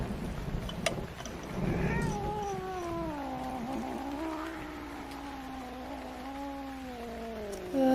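A cat in a horse riding video game lets out a long drawn-out yowl, a wavering moaning caterwaul that bends up and down in pitch for several seconds over faint background noise.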